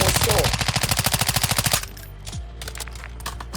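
Sustained rapid automatic gunfire in Call of Duty: Modern Warfare II Warzone 2.0 DMZ rattles loudly for nearly two seconds, then stops, leaving a quieter background with faint distant shots.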